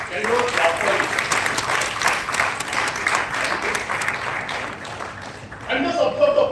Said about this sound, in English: Can you clap for it?